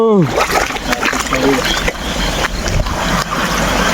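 Loud, continuous rushing and splashing of a flowing stream at Bairappan Falls near Hubli fills the scene, with voices talking over it.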